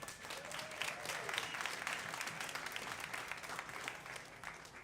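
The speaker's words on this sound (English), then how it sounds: "give a cheer for Fenix." A live esports crowd at a DreamHack SteelSeries StarCraft consolation final cheers and applauds for the Terran player Fenix, a steady wash of clapping and cheering that stays at an even level throughout.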